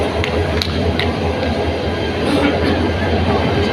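Sagar passenger train at a station, a steady low rumble of railway cars with faint clicking over the rails, continuous and fairly close throughout.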